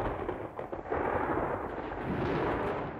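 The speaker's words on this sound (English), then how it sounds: "That night, we had a terrific thunderstorm." A thunder sound effect in a 1995 Christmas audio drama, heard as a heavy rumbling roll that builds into a sustained, dense roar lasting the whole few seconds, loud and close with no voices.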